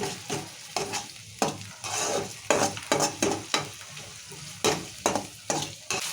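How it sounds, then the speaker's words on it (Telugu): Tomatoes and green chilies fry in oil for a chicken curry, a steady sizzle broken by repeated scraping stir strokes against the pan at an uneven rhythm, close and fairly loud, with no talking. "టమాటాలు ఈ మిరపకాయలు వేసినాం కదా మెత్తగా ఉడకాలి ఇలా నూనెలా నూనెలు మంచిగా ఉడికిస్తున్నాం"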